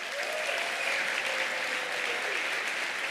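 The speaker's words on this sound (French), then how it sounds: "on aimerait encore dire un immense bravo à tous les athlètes qu'on a célébrés ce soir, on peut encore les applaudir." Sustained applause from an audience honoring athletes at a Geneva sports awards night, steady full clapping throughout, with a faint voice underneath.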